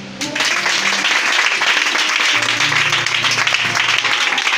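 A church audience bursts into loud, sustained applause with cheering voices, a continuous wash of clapping close and full for several seconds.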